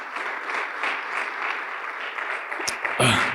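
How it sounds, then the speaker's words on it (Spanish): A church congregation applauds together, a dense continuous patter of many hands at moderate distance, with a brief louder burst of noise near the end. "Démosle una ofrenda de palmas al Señor"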